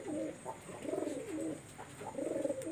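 Two female Oman Teddy pigeons coo in a repeated rolling pattern, several low, rounded calls close by and fairly loud, with a faint steady hiss behind them and no voices.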